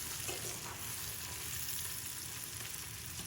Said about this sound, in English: Stir in the herbs and the seasoning.